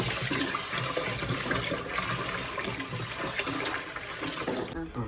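Rice being washed in water, with a continuous splashing and sloshing of water and grains in a pot, close and steady, cutting off abruptly near the end.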